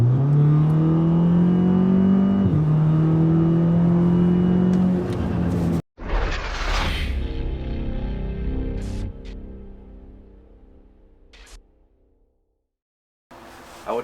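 Audi A3 turbo engine with a new discharge pipe revving, a loud sustained drone that steps up in pitch, then a sharp whoosh and lighter revving that fades to silence.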